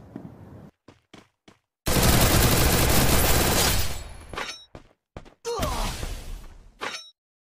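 Video game gunfire: a long sustained burst of rapid automatic shots, followed by shorter bursts and scattered single cracks, loud and close with brief gaps between volleys.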